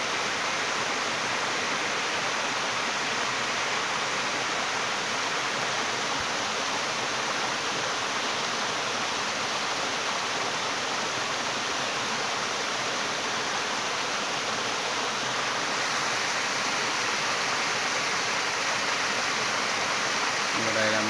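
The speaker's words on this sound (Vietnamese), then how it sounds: "Đây là gành đá một cái thác nước nhỏ thôi nhưng mà rất nhìn rất đẹp" Small waterfall spilling over rocks in a forest stream, a steady, dense rush of water that stays loud and even throughout with no pauses.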